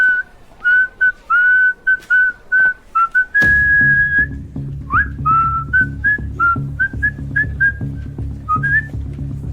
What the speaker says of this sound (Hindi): आप सीटी क्यों मार रहे हो?